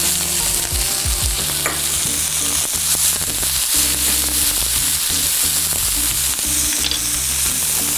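Shallots and fresh thyme sizzle steadily in a hot pan, with a continuous frying crackle and occasional stirring clatter, close and fairly loud, with no talking.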